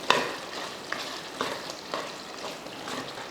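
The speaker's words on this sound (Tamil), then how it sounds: "இந்த டைமில் நம்ம கொஞ்சம் மல்லித்தலையை தூவிட்டு கிளறி விட்டுறலாம்" Chicken gravy sizzling and frying in a pan as coriander leaves are stirred in, with a sharp spatula scrape at the start and a few softer stirring knocks over a steady close-up crackle.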